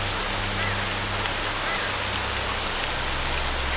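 Steady rain falling in the video game S.T.A.L.K.E.R.: Shadow of Chernobyl, a dense continuous hiss of drops on surfaces with a low rumble underneath, constant throughout.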